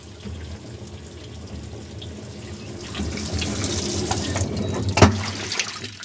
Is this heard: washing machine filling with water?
yes